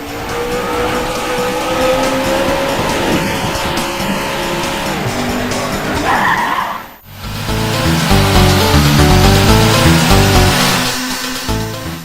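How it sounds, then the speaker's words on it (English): Out Run arcade racing game with a Ferrari Testarossa: loud engine drone and tire squeal over game music, cutting briefly near the middle before busier music and engine noise return. "Outrun wasn't just a race, it was a lifestyle cruising toward the sunset in a convertible Ferrari Testarossa"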